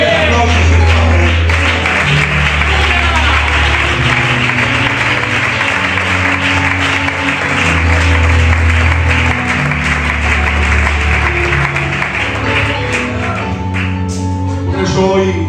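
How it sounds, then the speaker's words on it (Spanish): A church congregation claps loudly and continuously at a worship service, dense applause over a steady low musical backing. "Fuerte aplausos en esta manera."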